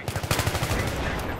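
Rapid bursts of gunfire from a multiplayer shooter match on the Seine map, a quick run of sharp shots in the first second that trails off into a dense, continuous battle din with no voices.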